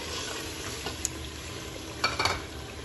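Meat and beans fried with yogurt masala, giving a steady low sizzle that runs throughout, with a few soft scrapes and clinks of stirring near the end.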